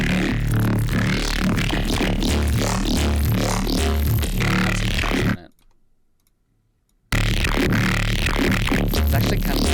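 Resampled Reese bass synth played in Serum with flanger filters, a dense, gritty, nasty-sounding roar that plays loudly, cuts out for under two seconds of near silence, then returns.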